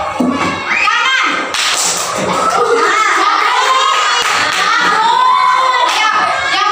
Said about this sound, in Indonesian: Ya, sekarang tepuk kanan